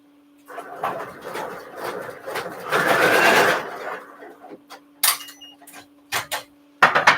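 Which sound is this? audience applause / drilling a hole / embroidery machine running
embroidery machine running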